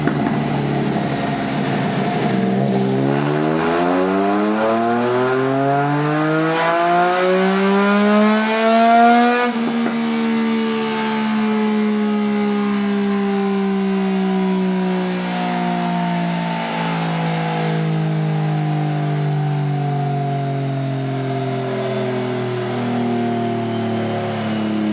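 A Triumph Trident 660 motorcycle engine revs on a dyno, its pitch climbing steadily through the gears to a loud peak, then winding down gradually in a long, sustained drone with no talk.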